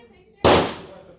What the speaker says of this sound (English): Now we're doing the shotgun.